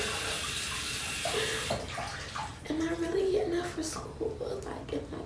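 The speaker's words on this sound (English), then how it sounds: "wash my face in the morning with some hot water" Hot water gushes from a tap while someone washes their face, a steady rush that breaks into splashes and uneven sloshing, with a soft voice murmuring partway through.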